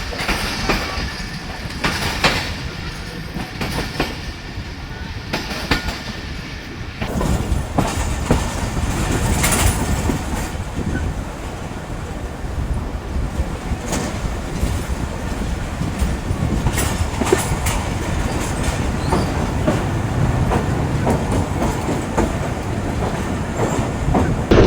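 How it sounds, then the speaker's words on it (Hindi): Badar Express passenger train running on a branch line track from Lahore toward Faisalabad, heard from aboard behind the locomotive: loud continuous rumble with rhythmic clickety-clack of wheels over rail joints and occasional metallic clanks. "लेफ़्ट वाला ट्रैक जिस पर अभी ट्रेन सफ़र कर रही है आगे फैसलाबाद जाएगी"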